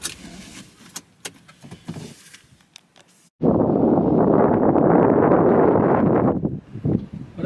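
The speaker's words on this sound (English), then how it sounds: "Don't know if you can hear me because it's a bit windy." Wind buffets the microphone outdoors in a seaside scrap metal recycling yard: a loud, steady roaring rush for about three seconds, after quieter handling clicks and rustle.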